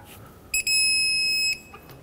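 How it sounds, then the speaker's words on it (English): A single clear electronic beep, about one second long, comes from a torque wrench reaching 66 foot-pounds on a camber bolt of a 2009-2014 Honda Fit during alignment work, sounding alone in a quiet room. "Now let's torque it to 66 foot-pounds"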